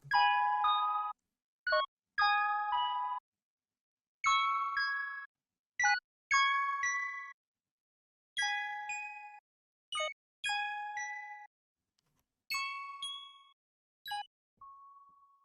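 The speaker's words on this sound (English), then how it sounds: "this plug sound, which I got from the same one shot kit, and without effects it sounds like this" Bright, dry synth pluck one-shot sample without effects rings out in a sparse melodic pattern, short chords and single notes with quick decays and silent gaps between them.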